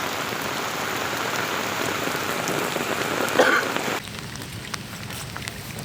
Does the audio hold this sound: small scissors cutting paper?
no